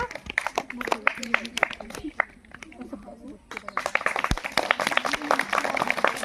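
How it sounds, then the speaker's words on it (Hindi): A school audience at an Ambedkar Jayanti celebration claps in bursts of sharp, uneven hand claps, pausing briefly midway before resuming, with voices talking around them. "ताली बजाओ।"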